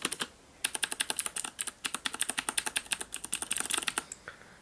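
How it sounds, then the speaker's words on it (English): Fast clicky typing on a Das Keyboard Professional Model S mechanical keyboard with Cherry MX Blue switches, close and crisp, rapid bursts of keystrokes with short pauses, no voices. "It's a fully mechanical keyboard"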